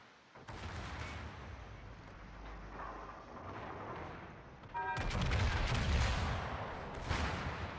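Secondary guns on the Friedrich der Große battleship in World of Warships firing at a Z-46 destroyer, a steady run of rumbling gunfire that swells into louder, denser booms partway through, with no voices.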